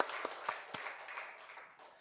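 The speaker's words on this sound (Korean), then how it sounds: "우리 하나님께 영광의 박수 올려드리겠습니다" A congregation at a Korean Sunday worship service applauds, several crisp claps landing in an even beat before blending into a soft, fading patter of hands, fairly faint and distant.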